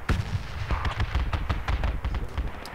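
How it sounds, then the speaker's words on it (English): Grenade blasts from enemies in a military shooter game, heard as a dense barrage of loud booms and sharp cracks rolling on without pause, close and heavy with no voices over it. "I think that's enemy nades"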